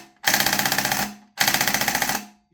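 VFC M249 gas blowback airsoft gun fired in two loud, close bursts of rapid, evenly spaced shots, each lasting about a second, with a short silence between them.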